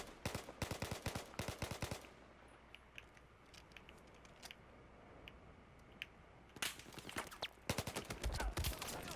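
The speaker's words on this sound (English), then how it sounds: "I'm gonna see if I can get some burst fire on these guys." UMP9 firing in bursts in Battlefield 4, rapid clusters of gunshots at the start and end with quieter scattered distant shots and game ambience between.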